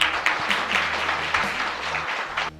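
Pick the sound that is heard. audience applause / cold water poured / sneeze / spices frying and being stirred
audience applause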